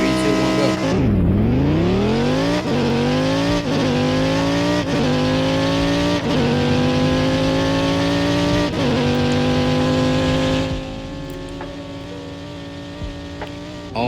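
Engine roar from a car racing in Roblox's Southwest Florida driving game, rising in pitch as it accelerates through several gear shifts, loud and continuous, easing off near the end.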